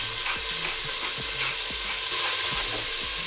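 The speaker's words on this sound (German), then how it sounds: "und den Speck und brate das richtig kräftig an" Bacon fries hard in olive oil in a pot for an onion soup, a loud, dense, continuous sizzle with regular scraping stirs throughout and no speech.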